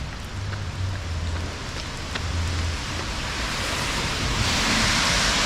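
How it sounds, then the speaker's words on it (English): Steady rain falls during an outdoor run, a continuous broadband hiss of drops with a faint low rumble underneath and no voices. "Still raining."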